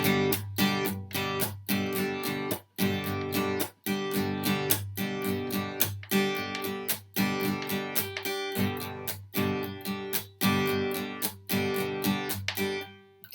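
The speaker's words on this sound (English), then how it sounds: "that's where we're going to add in a kind of a muted strum." Acoustic-style guitar strummed in a steady rhythmic down-up pattern with a percussive muted strum on the beat, played up close and alone, with regular sharp chops between ringing chords.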